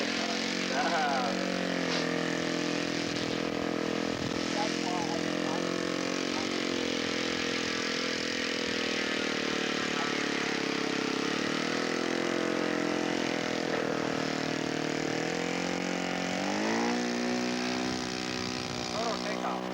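A scale model propeller aircraft takes off at a scale aircraft show; its engine drones loud and steady throughout, with pitch swells as it climbs, while people talk faintly in the background.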